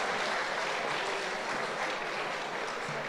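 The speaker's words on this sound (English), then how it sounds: "So Durdana Ansari, please give her a big round of applause." Continuous applause fills a hall at a launch event in Manchester, a dense, even wash of clapping from a sizeable audience, loud and close, lasting throughout.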